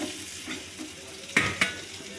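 Rice stir-fried in a pan for fried rice, soft sizzling with scraping spatula strokes and two sharper clacks near the end, fairly faint and close, with no talking.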